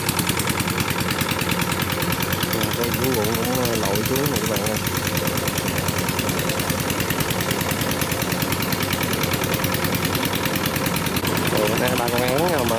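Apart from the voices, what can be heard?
water pump engine running in rice field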